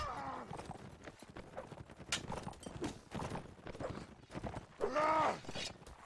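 Horses gallop in a video game battle, with rhythmic clip-clopping hooves, clanking and a brief whinny, loud and busy amid the clash of the fight.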